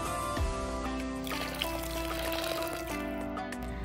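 Hot water poured into a soup pot while making chicken oats shorba, a continuous close splashing pour with trickling and bubbling, loud and alone with no talk.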